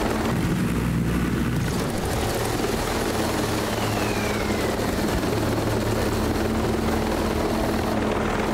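A helicopter in Ghost Recon Breakpoint thrums loudly and close, its rotor chop and engine whine holding steady throughout without speech.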